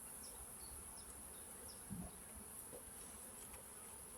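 Faint, steady buzzing of honey bees at a hive in a colony affected by chronic bee paralysis virus, a soft continuous hum with occasional brief passes of individual bees close by.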